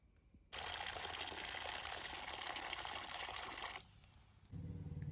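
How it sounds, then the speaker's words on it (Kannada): Fresh fish are washed under running water, a loud steady splashing gush from a tap that drops off briefly before starting again, close by with no talking. "ಅದನ್ನೀಗ ಚಂದ ಮಾಡಿ ತೊಳ್ಕೊಬತ್ತೆ."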